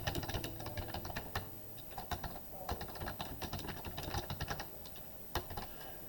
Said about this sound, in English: if you ask somebody to type in their name